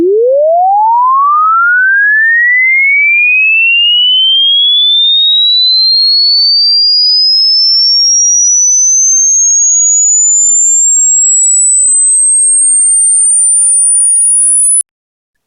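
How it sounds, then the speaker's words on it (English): A pure swept sine test tone glides steadily upward in pitch from low to very high over about fifteen seconds, loud, clean and continuous, then cuts off abruptly. "So here's a swept sine wave."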